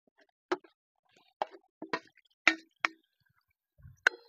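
Tomatoes dropped into a pan of matar masala tempering, giving a handful of separate soft plops and wet squishes spread across a few seconds, fairly close and quiet, with no talking.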